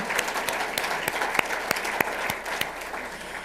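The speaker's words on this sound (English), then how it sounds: "let's give them a round of applause for this great breakfast they've laid out this morning" A breakfast audience at an awards event gives the kitchen staff a round of applause, a dense wash of clapping with distinct sharp hand claps standing out, no talking.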